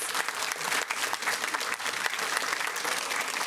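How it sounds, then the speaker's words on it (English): An audience at a school district board meeting applauds an elementary school ballet folklorico group, with steady, even clapping from a modest crowd, fairly faint and continuous for a few seconds. "Give them a big round of applause."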